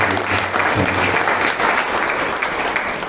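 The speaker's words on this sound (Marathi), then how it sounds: "आणि आपल्या सर्वांच्या वतीने टाळ्या मारून" Audience applause at a Marathi book launch ceremony, a steady burst of many hands clapping together, fairly loud and continuous from start to finish.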